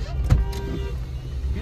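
Cars reverse on a snowy mountain road beside the Chenab river after falling rocks block the way, giving a close, low engine rumble with a short mechanical whir and thump.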